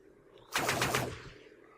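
An assault rail rifle fires in the video game Dust 514: one loud, close burst of rapid shots lasting about three-quarters of a second, then fading into a quiet tail.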